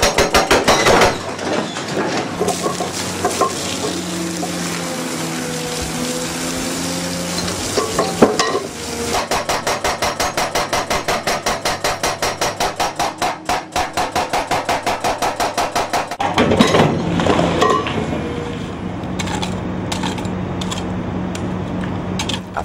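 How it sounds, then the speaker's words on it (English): A big hydraulic hammer chisels hard rock underground in a mine, a loud, close, rapid metallic pounding in sustained bursts with brief pauses and shifts in pitch, echoing against the rock. "we'll take the big hydraulic hammer and break our way down, chisel our way down to try to get underneath this quartz"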